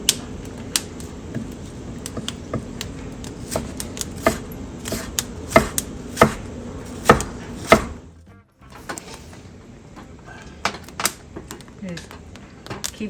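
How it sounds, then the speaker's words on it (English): A knife chops onion into small pieces on a board for chiles rellenos filling, with steady close knocks in an even rhythm, a brief pause, then lighter chopping resuming; people talk in the background. "Just chop it down into small little pieces"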